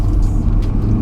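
Engine of a mid-engined 1993 Toyota MR2 Rev 2 GT heard from the cabin while cornering, a loud, steady low rumble from behind the seats with no speech.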